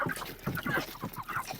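Broiler chickens being transported in hot weather cluck and squawk in a busy, overlapping chorus of short calls, close by and steady with no speech.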